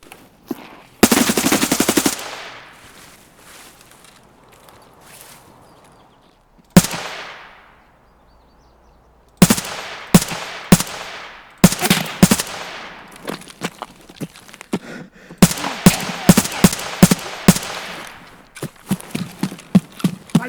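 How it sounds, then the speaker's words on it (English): An RPK machine gun fires in Escape from Tarkov, with a long sustained burst followed by shorter bursts and single shots, each loud and close with pauses between them and no talk. "So let's watch this gun in action."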